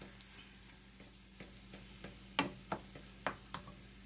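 Ground meat browning in a pan for shepherd's pie, a faint low sizzle under a steady hum, broken by several sharp scraping strokes of a spatula.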